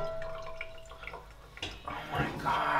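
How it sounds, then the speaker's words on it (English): Water is spilled by accident onto crackers in a home kitchen, a brief wet dripping and splashing patter set among soft handling noises, with a voice exclaiming nearby. "Did I pour water on the crackers?"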